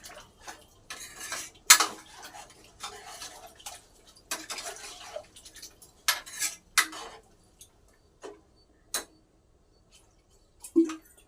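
A spoon scrapes and clinks against a metal pot in irregular bursts while stirring curry, loud and close, with quiet pauses between strokes.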